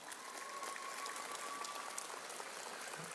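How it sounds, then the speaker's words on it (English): A convocation audience at a university ceremony applauds the faculty, a steady, even wash of clapping heard from some distance, moderately faint and sustained throughout. "give them a round of applause, please"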